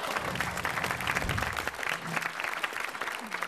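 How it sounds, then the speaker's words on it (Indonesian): A television studio audience applauds steadily throughout during an Indonesian comedy talk show, a dense, even wash of clapping with a faint low hum and some crowd noise beneath. "Beri tepuk tangan dulu untuk para biang galau."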